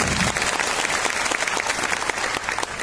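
Audience at a live stage program in Rajkot clapping loudly, a dense, continuous burst of applause throughout with no talk.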